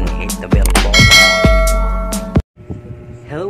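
Bright metallic bell-like dings ring out in quick succession, a layered notification chime with ringing tones that sustain, then cut off abruptly, followed by a brief whoosh.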